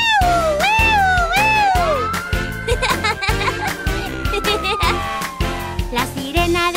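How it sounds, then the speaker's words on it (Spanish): A cartoon fire truck siren in an animated Spanish-language children's song, its wailing rising and falling tones sweeping over bouncy music and sung vocals, loud and upfront throughout. "La sirena del camión de bomberos suena por toda la ciudad."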